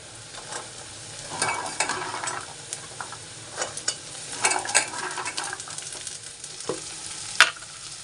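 Onions and chickpeas fry in a pan, a continuous sizzle broken by scraping stirs and occasional clinks of a utensil against the metal, close and fairly quiet.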